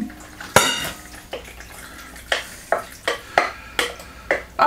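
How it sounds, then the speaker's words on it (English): Hot penne pasta tossed and mixed in a big bowl, with repeated clinking and scraping of a utensil against the dish in an irregular rhythm, close and fairly loud, no talking. "You just put your hot pasta into your dish and mix it up just a little bit."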